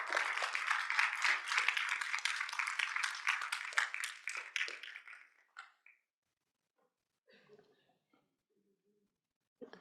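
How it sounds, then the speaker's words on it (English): Conference audience applauds the panelists at the close of a regional energy session, a burst of many hands clapping that fades out after about five seconds, leaving near silence with faint scattered sounds. "Maybe if you could give applause to the panelists."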